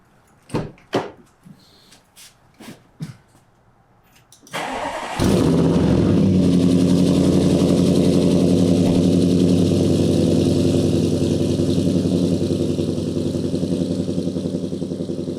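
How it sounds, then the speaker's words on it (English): An Audi C7 sedan cranks and fires up after a few brief clicks and thumps, then settles into a loud, steady idle with an even low rumble that carries on to the end. "I'll go start my car so we can demonstrate that"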